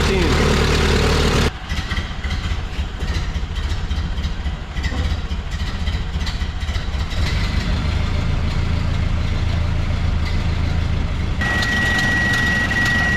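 A 1929 Model A Ford Tudor sedan engine with an added GM alternator idles steadily with its idle raised, a constant low mechanical drone that carries through the whole stretch, while a thin high tone enters near the end.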